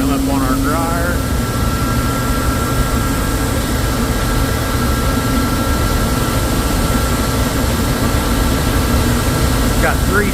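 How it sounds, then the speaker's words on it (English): Steady, loud roar of grain dryer bin fans with a low mechanical hum runs throughout, with brief faint chirps near the start and end. "each bin has 1 to 2 fans on it that just run no burner, just the fan"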